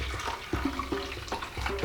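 Water and lemon juice pouring into an enema bag, a steady close splashing liquid flow running for the whole moment with small bubbling bursts.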